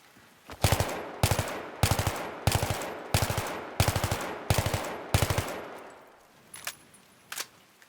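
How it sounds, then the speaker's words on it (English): Battlefield 3 rifle fire in burst mode hits a wall: seven evenly spaced, sharp bursts of several rapid cracks each, loud and close, followed by two single shots and scattered faint impacts as the shooting tapers off. "I shall shoot the bottom left of the wall in burst fire"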